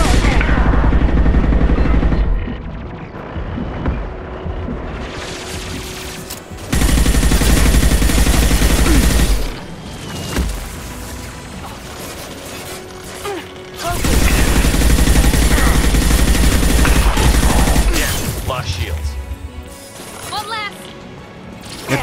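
Loud gunshots from a sniper rifle in the Mass Effect 2 shooter, fighting Geth and a Colossus, come in long blasting stretches separated by quieter gameplay, with someone talking over the action.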